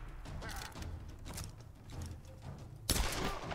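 Gunfire in Tomb Raider 2013, a run of soft, muffled shots under game noise that ends in one sharper, louder crack near the close.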